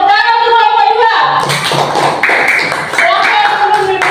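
Classroom pupils clap for a student group after its performance, a burst of quick, uneven hand claps from several children filling the room at close range, with some voices mixed in.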